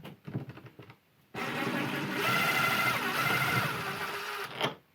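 A power drill backs long screws out of the latch of a Defiant electronic deadbolt combo lockset, a steady whirring motor run of about three seconds after a short burst of handling noise, close and fairly loud.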